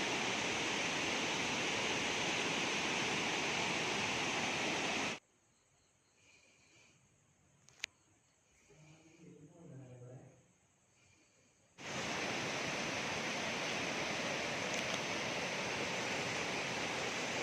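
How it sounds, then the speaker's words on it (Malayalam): Loud, steady rushing water of the Perumbankuthu waterfall in Kerala roars throughout, cutting out abruptly for several seconds of near-quiet with faint sounds before the roar returns. "നല്ല ഭംഗിയുള്ളൊരു വെള്ളച്ചാട്ടം."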